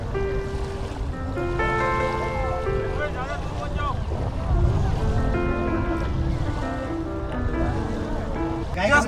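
Speedboat travelling over sea waves off Saudi Arabia, a constant engine drone mixed with wind buffeting and splashing surf, while people talk and exclaim throughout.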